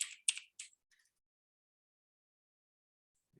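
A few crisp keystrokes on a computer keyboard while working in Houdini 3D software, three quick close taps followed by silence and a faint low thump at the end.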